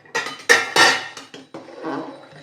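Rice is stirred in a pot after vinegar and oil are added, with several sharp metallic clanks and scrapes of a spoon against the pot, loud and close, followed by a softer rustling stir.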